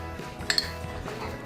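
Mushrooms go into a pan for sauteing with a couple of quick clinks of utensil on metal, close and light, over a low steady background hum, all within a brief moment.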